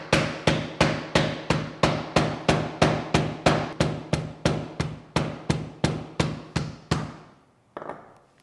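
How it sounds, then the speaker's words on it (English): About twenty evenly spaced, loud hammer blows pound on a solid block of beeswax in steady rhythm, then stop, followed by one softer knock. "choose your spot wisely where you can be banging on a hammer over it"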